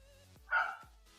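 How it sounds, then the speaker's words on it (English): One sharp dog bark, close and brief, standing alone against an otherwise quiet background. "apologize for the barking, of course. He loves to bark."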